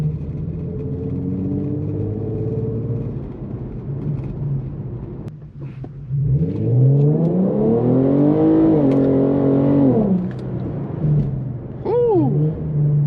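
An Infiniti Q50S with traction control off rumbles steadily at low revs, then its engine note climbs loud and close through one hard, sustained pull before easing off, followed by a brief second rev near the end.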